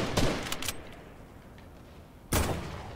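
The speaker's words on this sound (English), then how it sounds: "An assault rifle." Assault rifle gunfire in a video game: a quick cluster of sharp shots, a lull, then another close, loud burst, with no talk over it.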